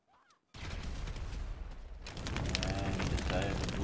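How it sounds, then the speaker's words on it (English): Rapid bursts of automatic gunfire in GTA 5, a sustained loud fusillade kicking in after a brief quiet start and growing denser toward the end. "Alright, now he's shooting."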